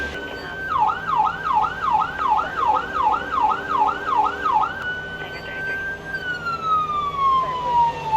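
A police car siren in the Police Simulator patrol game wails in a fast, steady yelp cycle, loud and close, then slides into a slower falling tone.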